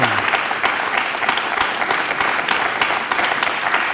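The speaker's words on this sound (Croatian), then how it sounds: "moramo kontrolisati ove aplauze" Dense, steady applause from a studio audience on a Serbian television talk show, a crowd of hands clapping continuously and close for a few seconds.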